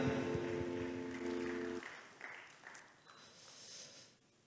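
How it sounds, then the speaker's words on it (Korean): After a held sung note from the worship music ends, a church congregation applauds softly, a diffuse wash of clapping heard from a distance that slowly fades. "우리 하나님께 영광의 박수 올려드립니다."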